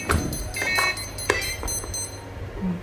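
An RC plane's electronic speed controller and motor give short electronic beeps after the Flysky i6 transmitter is switched on, a series of brief tones over steady background noise, with no voices.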